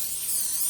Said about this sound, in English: Let me spray it first before I place it in the oven.